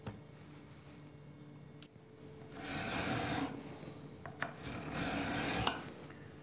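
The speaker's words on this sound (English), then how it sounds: "put it in the vise and start filing away on this thing" A metal chuck key held in a vise is hand filed, producing steady rasping strokes close by, with a pause between strokes and then longer scraping passes, with no talking.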